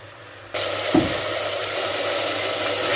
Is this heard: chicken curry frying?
yes